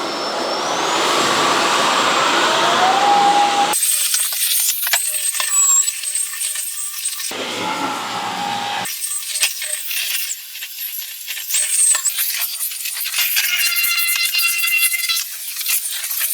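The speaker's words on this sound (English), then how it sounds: "Now what we're going to do is actually hoover the rest of the offices just to see how much we can fill up in here." A Bosch Unlimited 7 ProHygienic Aqua cordless vacuum cleaner running steadily while hoovering offices, a loud continuous whine that drops out and returns as it is switched or moved, with small rattles of debris.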